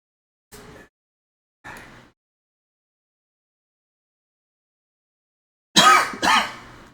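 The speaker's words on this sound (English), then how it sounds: "Now I'm coughing." Four separate coughs: two short, lighter ones early, then a loud, harsh pair after a long silence.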